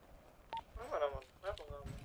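Short electronic dialing tones from a phone in a roleplay video game, a few beeps in quick succession while someone talks over them.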